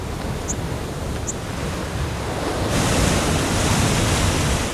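A rushing Scottish Highlands waterfall pours as a loud, steady torrent of broadband white-noise roar that swells louder partway through, with no voices.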